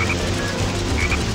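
A frog croaks in the Sonic Heroes game, loud, close and repeated, over steady background game sound with no speech.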